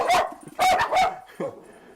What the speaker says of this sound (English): My 2 dogs are, I guess they want to talk live tonight as well.